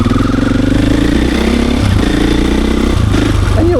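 A Husqvarna FE450 motorcycle engine chugs along at low, lazy revs while being ridden, a close, continuous throbbing thump with slight rises and dips in pitch and no talking.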